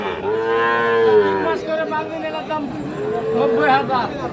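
A Sahiwal bull calf gives two drawn-out moos, close and fairly loud, amid murmured voices at a cattle market.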